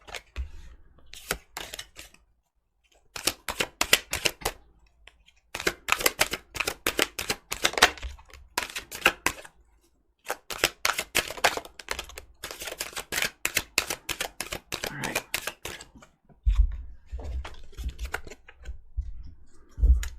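Tarot cards are shuffled by hand in long sequences of rapid, crisp riffling clicks, close and clear, broken by short pauses between rounds, with occasional low thumps as the deck is handled.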